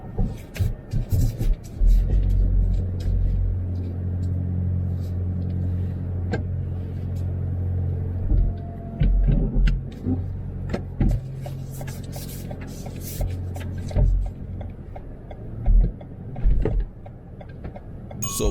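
A car reverses out of a parking spot at a driving test center, its engine a low steady rumble with occasional louder surges and small knocks and clicks, and no talking.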